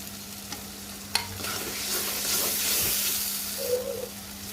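Steady sizzling of tomatoes, chilli powder and salt frying in a pan, with occasional scraping and stirring clicks from a spoon, close up and fairly quiet.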